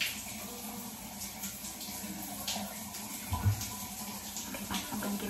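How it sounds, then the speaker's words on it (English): Shower water runs steadily in a home bathroom, a continuous hiss of spray that stays even throughout with a brief low thump partway in. "I'm gonna get a shower."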